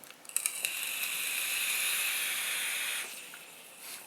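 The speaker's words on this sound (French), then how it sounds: "Ça aurait tendance à faire de la grosse vapeur quand même." An Aura Mini vape produces heavy vapour, giving a close, steady airy hiss that builds after a few clicks, holds for about two and a half seconds, then drops off with faint clicks at the end.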